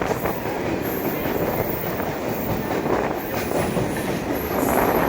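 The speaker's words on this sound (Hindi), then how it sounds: "क्रॉसिंग आला हजरत एक्सप्रेस।" The Ala Hazrat Express passing close by, a loud continuous rush of rolling wheels with rattling clatter and high squeals from the rails throughout.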